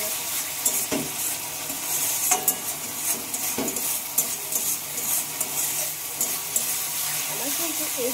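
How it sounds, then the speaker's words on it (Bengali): Tomato masala sizzles in hot oil while a utensil stirs it, giving repeated scraping strokes over a constant close frying hiss, with occasional clinks and some speech in the background. "মশলাটা নেড়ে চেড়ে এইভাবে যতক্ষণ না মশলা থেকে ভালোভাবে তেল ছাড়বে"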